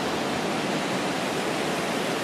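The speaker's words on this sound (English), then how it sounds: "This is the beautiful ocean at night." Ocean waves break along a beach at night, making a steady, dense rush of surf that stays even and unbroken from start to end.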